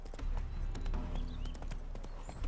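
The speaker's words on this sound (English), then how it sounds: "Spooking my horse." Horse hooves clip-clop steadily in The Witcher 3, close and fairly soft, with a brief high whinny layered over the trotting.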